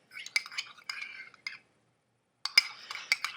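A utensil stirs a thin tint mixture inside a glass jar, with quiet clinks and scrapes in two short bursts separated by a pause.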